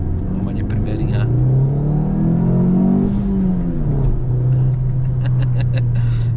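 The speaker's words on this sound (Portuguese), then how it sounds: "Ele tá com esse apitinho aí do escape, engraçado." A 2008 Fiat Punto 1.8 HLX accelerates from inside the cabin, its engine rumbling and climbing in pitch while a faint whistle comes from the exhaust, with a voice talking over the drone.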